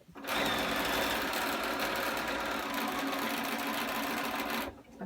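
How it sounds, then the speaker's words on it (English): A sewing machine runs continuously for about four and a half seconds, stitching with black thread in one steady, loud, close whirring run that starts and stops abruptly. "I'm going to sew with black thread"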